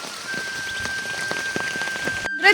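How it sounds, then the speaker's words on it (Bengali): Heavy rain pours down in a village setting, a dense, loud, unbroken patter of drops hitting surfaces with a constant faint tone above it, cut off abruptly near the end. "বৃষ্টি হচ্ছে, দেখো কি পরিমাণে বৃষ্টি হচ্ছে।"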